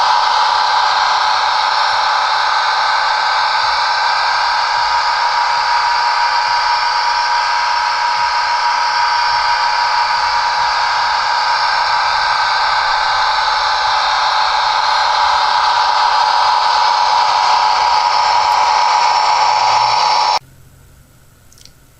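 A Rapido RDC model train in HO scale runs in reverse with a steady, loud, close whirring hum that holds evenly for about twenty seconds before cutting off, leaving near silence.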